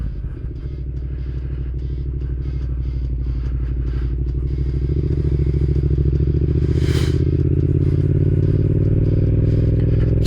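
A motorcycle rides steadily with its engine droning and rumbling throughout, captured close by an Insta360 X5 camera, with wind buffeting and a brief hiss partway through.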